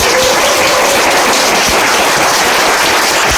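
A lecture audience breaks into a dense, steady wash of clapping that stays loud and unbroken throughout.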